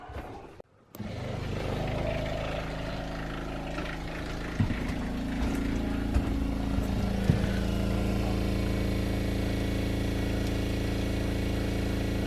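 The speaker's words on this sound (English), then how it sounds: "So we're going to turn on the pump now." An RV's water pump starts up after a brief pause and runs steadily with a loud, continuous motor hum and faint clicks, without any talk over it.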